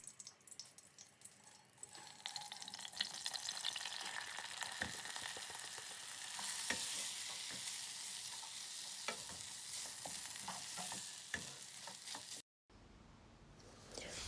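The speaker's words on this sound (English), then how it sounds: "So we'll stir the pot for a little bit until the rice gets a bit dry" Rice frying in hot oil in a pot with spoon stirring, continuous sizzle under repeated scraping and clacking strokes, close and fairly busy, cutting out briefly before a quieter hiss resumes.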